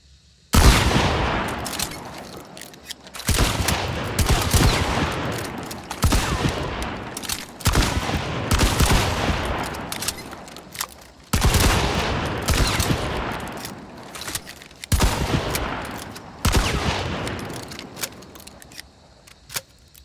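Romero 77 and Alamo shotguns in Hunt: Showdown, fired in five loud separate blasts spaced a few seconds apart, each with a sharp crack and a trailing reload rattle.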